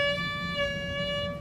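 A sustained bowed string tone with a slow, wide wavering in pitch, played steadily and fairly close, with no talking.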